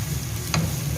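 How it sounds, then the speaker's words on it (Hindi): Steady sizzle of fenugreek leaves and potatoes being sautéed in a pan, with a brief stir or scrape partway through, continuous and close. "और 1 मिनट इसको मैं सौते करूंगी।"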